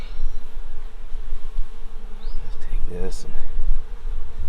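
Honey bees buzz steadily around an open hive during a warm-day inspection, a close, continuous drone with a brief rough scraping on the comb partway through.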